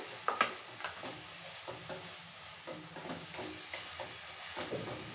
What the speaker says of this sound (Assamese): এতিয়া এনেকে ভাজি চেনিখিনি আৰু গাজৰখিনি একেলগে মিলি যাব